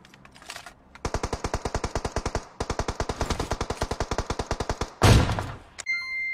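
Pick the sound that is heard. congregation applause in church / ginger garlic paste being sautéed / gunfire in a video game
gunfire in a video game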